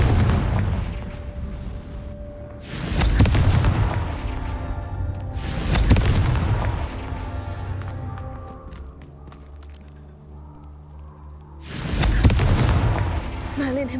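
Confringo explosive spell blasts in Hogwarts Legacy, four heavy booming impacts spaced a few seconds apart, each loud and close with a rumbling tail, over a low game backdrop.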